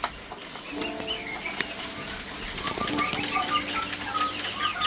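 Three-month-old chickens flap and scuffle while being handled for weighing on a farm, with busy wing beats and clucking close by and no talk.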